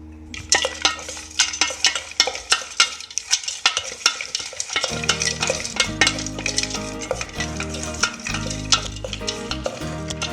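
Maggi bhel puri ingredients are tossed and stirred together in a metal bowl, a series of close scraping, clinking strokes that settles into a rhythmic stirring rattle.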